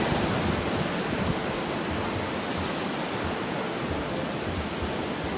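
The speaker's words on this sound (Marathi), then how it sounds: "इथे अजून एक झरणा आला मोठा धबधबा" A large waterfall in Norway roars as a dense, constant broadband rush of falling water, loud and unbroken with no other sounds.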